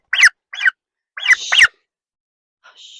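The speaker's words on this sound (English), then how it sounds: "Hey, baby turkey." A baby turkey gives several short, high, downward-sliding calls in quick bursts, close to the microphone, followed by a faint trailing note after a brief pause.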